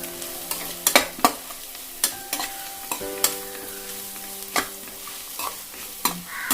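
Green chillies, carrot and beans stir-fried on high flame for chicken fried rice, with sharp intermittent spatula scrapes and clanks against the pan over a soft, steady sizzle.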